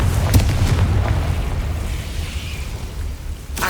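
Confringo blasting curse from Hogwarts Legacy gameplay, a loud booming explosion with a sustained low rumble that fades over a few seconds, followed by another sharp burst at the end.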